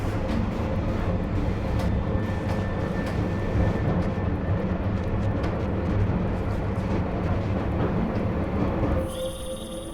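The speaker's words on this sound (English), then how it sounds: "you need to disable that chopper" Helicopter in the video game Deus Ex: Mankind Divided, a steady loud rotor and engine roar during a sandstorm, continuous for most of the clip before easing slightly near the end.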